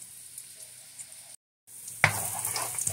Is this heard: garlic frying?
yes